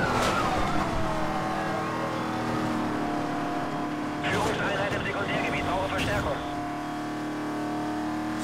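A Mercedes-Benz SL 65 AMG driven in the racing game Need for Speed: Most Wanted, its engine a steady, loud drone with shifting pitch and a brief burst of noisy texture midway, with someone talking over it.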